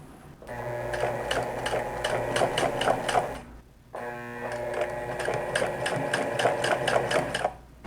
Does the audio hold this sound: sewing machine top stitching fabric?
yes